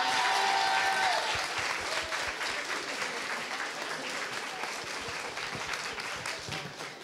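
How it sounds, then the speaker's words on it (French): A crowd applauds a second-place finisher named Pauline with dense, continuous clapping that starts loud and fades slightly, with a brief voice at the start. "On va quand même accueillir Pauline qui finit 2e, on l'applaudit."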